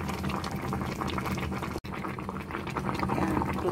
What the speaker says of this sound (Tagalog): Magaluto na ang ating okra.